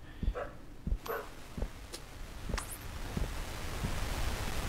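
Dog Fido in the horror game Something in the Well barking, a series of about six or seven sharp, moderately distant barks spaced roughly half a second apart over a steady background hiss.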